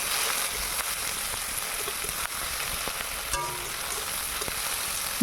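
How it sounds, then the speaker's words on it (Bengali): Chopped tomato and onion fry in a pan for masala bhindi, a constant loud hiss of sizzling oil with a few faint scrapes and taps of stirring. "কেটে রাখা টমেটোটা সহ পেঁয়াজ কুচিটাকে ভালো করে একটু ভেজে নিতে হবে"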